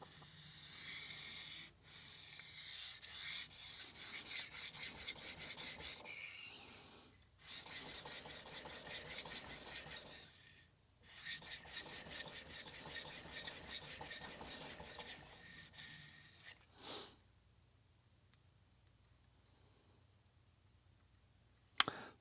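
A knife of Aogami 2 steel scraped across a 1000 grit sharpening stone in repeated long rasping strokes, close and scratchy, with short pauses between passes and then quiet.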